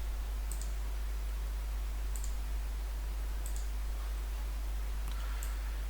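Sharp, faint mouse clicks at a computer, four isolated taps spaced about a second or more apart over a constant low hum, with no talking.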